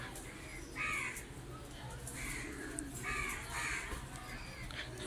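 Pet birds call while feeding on moringa leaves: a few harsh, crow-like calls repeat at moderate loudness over a steady low background hum.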